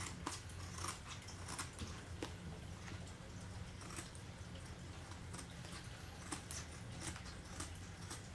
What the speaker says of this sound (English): So we'll cut this glove.